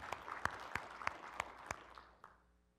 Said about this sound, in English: Y'all can do that clap thing one more time.